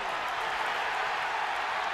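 A college wrestling crowd at a Penn State versus Ohio State men's dual meet rises and cheers, a dense, steady roar of many voices and clapping, sustained and fairly distant, with a voice talking faintly underneath.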